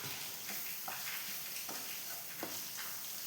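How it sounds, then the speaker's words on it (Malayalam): Masala sautéing in a pan for Kerala-style kadala curry, a soft steady sizzle with a few scraping stirs of a spoon at intervals, moderately quiet and without talk. "അപ്പോൾ ഇട്ട് നമുക്ക് നല്ലോണം വഴറ്റിയെടുക്കാം പച്ചമണം മാറുന്നവരെ നമുക്കൊന്ന് ഇളക്കി കൊടുക്കാം"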